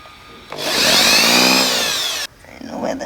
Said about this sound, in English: then just try and drill